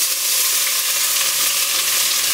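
Chopped onion fries in oil in a pot for a basa fillet kofta curry, giving a close, steady, crackling sizzle with no pauses and no talk.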